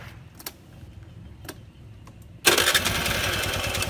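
A few faint clicks, then a small motorbike engine suddenly starts and keeps running loudly with a steady buzzing rattle.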